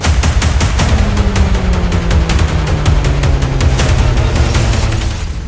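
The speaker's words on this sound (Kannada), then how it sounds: "ಮುನಿರತ್ನ ಪಟಾಕಿಗಳಿಗೆ ಬತ್ತಿ ಕೀಳಿಸಿದ್ದು ಕುಸುಮಾನ" Firecrackers bursting in a rapid, loud, continuous string of sharp cracks and bangs, with a low drawn-out tone running beneath the barrage.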